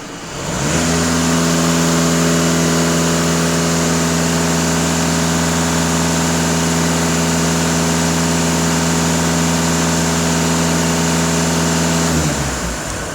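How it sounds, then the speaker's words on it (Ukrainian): A warmed-up VW Golf 2.0 TDI diesel engine held at full throttle right after a DPF and EGR cleaning, giving a loud, steady, sustained drone for about twelve seconds before dropping off at the end. "Даю газ в пол"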